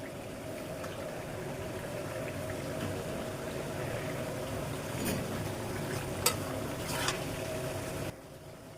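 Fish frying in a pan, a faint, steady bubbling sizzle with a few soft clinks near the end, before the sound drops away abruptly.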